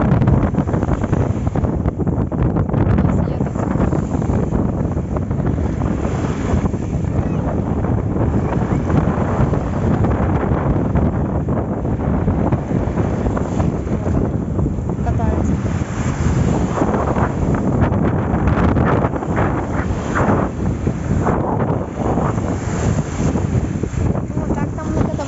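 Rough sea waves breaking on a Crimean shore in strong wind, a steady, loud wash of surf with heavy wind buffeting the microphone throughout.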